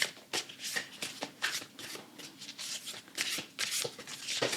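Starseed oracle cards are shuffled by hand in quick, repeated riffling bursts, close and soft, with brief pauses between flurries.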